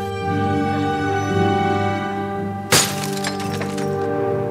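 A cell phone slips and shatters on a marble floor in a single sharp crash with scattered clinks. The crash cuts through a steady, sustained musical drone.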